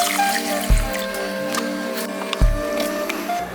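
Water trickles and gurgles as it circulates and levels between connected hydroponic buckets in a DIY grow tent system, a steady close dribbling with two soft thumps and occasional squishy drips.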